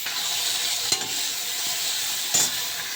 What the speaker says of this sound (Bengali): এটা আমি একটুখানি ভেজে নেব হালকা